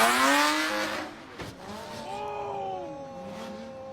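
A big-body Lexus swings into a drift on a rain-soaked road, its engine rising and falling in sweeping revs over wet tire noise, loud at first, then easing off as it carries on at a distance.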